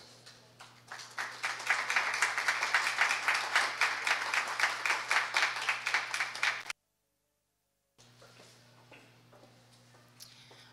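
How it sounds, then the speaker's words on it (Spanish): Indoor audience at a university magazine event applauds for several seconds with steady, dense clapping, then the sound cuts off before lighter scattered clapping returns, over a constant low hum. "la licenciada Adriana Orellana, a quien le damos un cordial aplauso."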